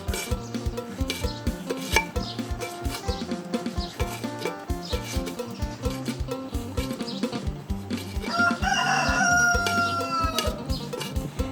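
A rooster crows at a grandmother's rural home while som tam is pounded, the call rising briefly near the end over a steady rhythmic musical backing.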